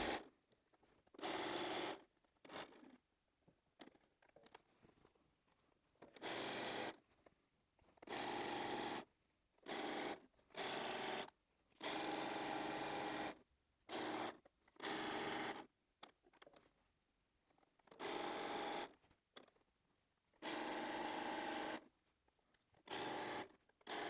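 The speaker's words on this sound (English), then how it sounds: "I'm going to go back over to the machine and I'm going to sew this all the way around" A sewing machine stitches around a fabric scrap shopping bag in many short bursts, each a few seconds long, separated by quiet pauses, fairly faint and with no talk.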